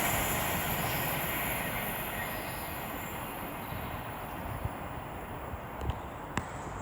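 An Avanti West Coast Class 390 electric train approaches a station on the West Coast Main Line, a steady broadband rumble of wheels and rail holding level throughout, with a few sharp clicks near the end.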